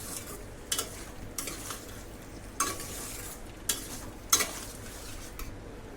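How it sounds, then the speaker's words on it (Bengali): Fried potatoes with spices, cooked for Bengali-style aloo dum, get stir-fried in a pan: a soft background sizzle broken by five or six distinct scraping, clattering spatula strokes spaced about a second apart. "এবার আলুটা দিয়ে আমি 5 মিনিটের মতো ভালোভাবে কষিয়ে নেব যাতে আলুর মধ্যে ভালো করে মশলাটা ঢুকে যায়"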